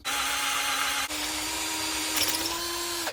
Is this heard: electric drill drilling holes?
yes